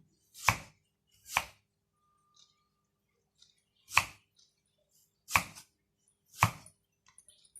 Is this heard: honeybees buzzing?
no